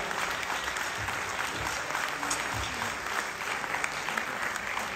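An audience at a live outdoor concert in Tuscany, Italy claps in dense, sustained applause, an even wash of many hands with occasional scattered cheers.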